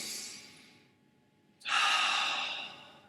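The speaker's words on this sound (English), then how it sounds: "you'll get them to breathe in and out at a regular tempo" Slow, deliberate breathing at a calm tempo: a long airy exhale fading out, a brief pause, then a sharp onset of a loud, breathy intake close to the mic, with no talking.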